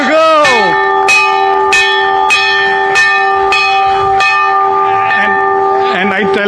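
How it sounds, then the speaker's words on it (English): A bell struck hard at the close of an Indian share market session rings out in repeated loud, resonant clangs, each strike sustaining and overlapping the last. "now you have to ring the bell very hard"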